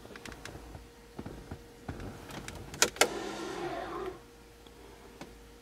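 Electronic parking brake on an 08 VW Passat engaging: a brief electric motor whir with two sharp clicks at the start, running about a second before stopping, close and fairly quiet inside the car.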